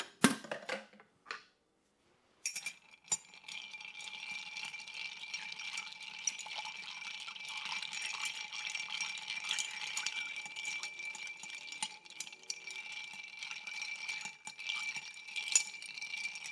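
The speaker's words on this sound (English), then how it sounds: "Add a little ice." Ice goes into a glass for an Alaska gin cocktail. A sharp clatter of cubes starts it, then a continuous close rattle and stirring clink of ice against glass continues at moderate volume, with no talk.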